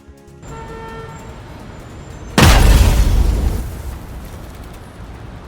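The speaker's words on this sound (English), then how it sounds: "One sudden swerve, and tons of steel crashed into the side rail like thunder" A container truck swerves and slams into a steel side rail at high speed: after a few seconds of quieter tones, a sudden loud booming crash hits and rumbles for over a second before fading.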